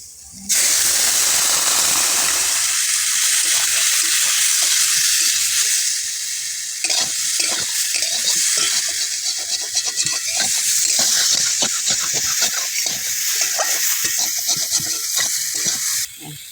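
Okra cooking in a pan just after water is poured in, hissing and sizzling loudly with steam while it is stirred, the scrape of the spoon rising and falling through the spitting.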